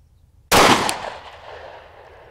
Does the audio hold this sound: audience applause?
no